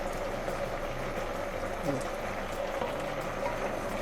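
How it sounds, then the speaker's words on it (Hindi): Black chickpeas in a pressure cooker bubble at a steady simmer, soft and close, with a faint constant hum underneath. "चने पकना शुरू हो गए हैं।"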